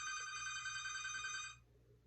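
A house phone rings with a loud, steady electronic trill that holds for about a second and a half and then cuts off, leaving quiet room tone.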